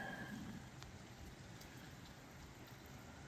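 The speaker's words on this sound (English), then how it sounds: "And yes, it finally started raining." Steady rain falls with a soft, continuous patter and occasional louder drops, fairly quiet and with no one speaking.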